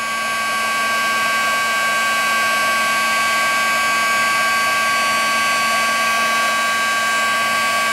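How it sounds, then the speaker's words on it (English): A crafting heat gun blows hot air to melt embossing powder on paper for card making, a loud, steady whirring roar with a constant motor whine, unbroken for the whole stretch and heard alone. "I let my heat gun get hot for a few seconds before I bring it to the paper"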